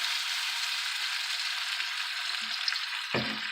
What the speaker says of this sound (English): what I'll be adding to this pot now, soy sauce